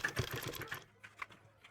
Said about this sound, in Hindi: किनार की सिलाई लगाते हुए चले जाएंगे।